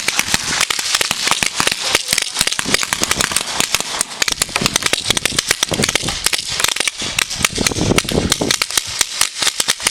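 Paintball markers firing during a team game at the Iturgutxi paintball field in Galarreta: a dense, continuous barrage of sharp pops and cracks, some close and loud, others farther off, overlapping throughout.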